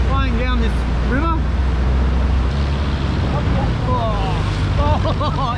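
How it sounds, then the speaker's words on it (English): Rushing river water roars steadily through a 4x4 crossing on the way to Mt Pinatubo, a loud continuous wash with wind buffeting the microphone and a voice talking over it. "There's a fair bit of water flying down this river."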